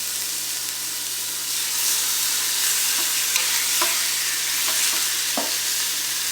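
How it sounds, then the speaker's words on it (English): Steady, loud sizzling of pork tenderloin searing in a hot Instant Pot pressure cooker, with a few faint clinks and scrapes over the constant hiss. "You can hear that nice sizzle."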